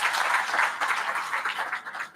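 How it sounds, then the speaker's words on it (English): Audience applause at a plenary lecture session, a dense, steady patter of many hands clapping close by for about two seconds, with no talk over it. "A round of applause for Dr."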